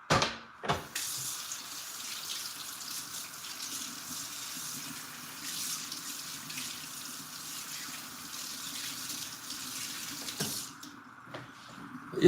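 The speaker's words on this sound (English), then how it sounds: "Washing my hands again." A kitchen tap runs in a continuous, even stream while hands are washed under it, with a few knocks and splashes at the start and end.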